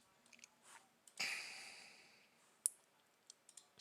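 A computer mouse clicks on a desktop while setting up a lab domain, giving a few sharp, isolated clicks close to the microphone amid quiet room noise and a soft rustle, no talking.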